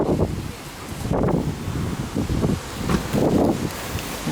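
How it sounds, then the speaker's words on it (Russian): Strong wind on a March evening in a courtyard in Alanya, Turkey, gusting and buffeting the microphone in uneven surges, with leaves rustling in the roar. "Ветер довольно сильный."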